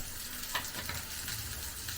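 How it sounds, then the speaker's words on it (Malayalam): Mustard seeds splutter in hot oil, a close, busy sizzle broken by a few sharp pops and crackles over two seconds. "നമ്മുടെ എണ്ണ മൂത്തിന് കടുക് ഇട്ട് കൊടുക്കാം"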